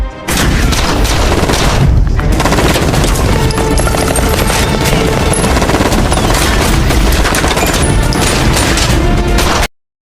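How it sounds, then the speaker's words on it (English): A shootout in a film bursts into dense, loud gunfire with rapid overlapping shots and booms, sustained for about nine seconds before cutting off abruptly. "Tony's men immediately stormed Charlie's hideout, and a shootout was inevitable."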